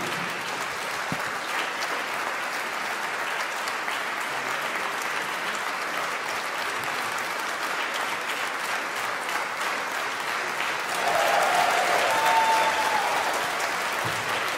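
An audience at a jazz concert in Katowice claps continuously in a dense, steady wave that swells slightly louder toward the end, with no speech over it.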